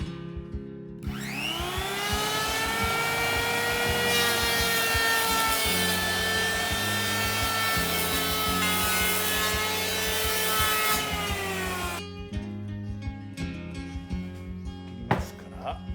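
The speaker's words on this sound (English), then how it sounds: "Next, I cut the top end of the ridge beam that I cut earlier, according to the slope of the roof." A hand saw cuts the top end of a wooden ridge beam for a woodshed roof in long, steady rasping strokes for about ten seconds. Quieter knocks and handling follow.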